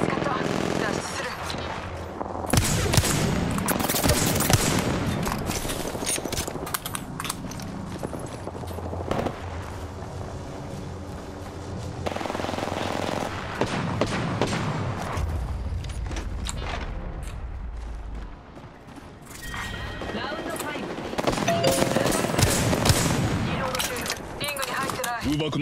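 Bursts of automatic gunfire and scattered single shots ring out during an Apex Legends battle-royale match, loud and near, with heavy booms and mechanical clatter mixed in and game voice lines heard over the fighting.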